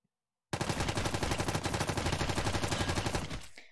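Rapid automatic gunfire in the video game Hardbullet, a sustained burst of evenly spaced loud shots lasting about three seconds after a moment of silence, then cutting off abruptly.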